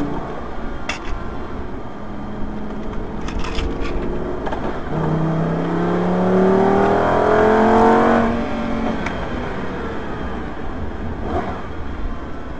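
A Superleggera car accelerating on the Hampton Downs race track, heard from inside the cabin, with the engine note rising through several climbing sweeps before settling to a steady drone, no talk.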